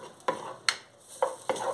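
Two cloves of finely minced garlic stirred in a hot pan for a shrimp chop suey, with a few distinct scraping strokes of a spoon over a soft sizzle, fairly close and quiet, no talking.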